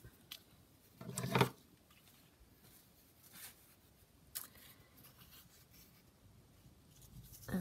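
Paper and fabric being cut for a handmade junk journal, a short burst of close scissor snipping and rustling near the start, then quieter handling scrapes and taps.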